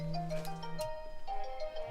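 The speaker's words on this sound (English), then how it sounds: "where Debbie Reynolds' phone rings during the interview." A mobile phone goes off during a podcast interview, a faint, short melodic ringtone of a few rising and falling notes heard alone at low level, with no talking over it.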